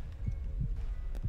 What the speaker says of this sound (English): What's that heartbeat?